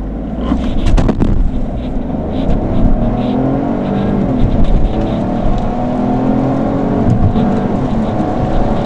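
A Peugeot 308 GT with a 130 hp 1.2-litre three-cylinder turbo engine and automatic gearbox accelerates steadily from a standstill with a rising whir and hum, heard from inside the car, with road noise underneath.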